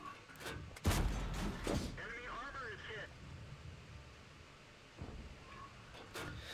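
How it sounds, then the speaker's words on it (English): In World of Tanks, a tank cannon fires a sharp, booming shot early on and a softer one later. Someone talks over the game sounds between the shots. "The IS-3 keeps exposing himself to me, so I'm going to put some shots into him."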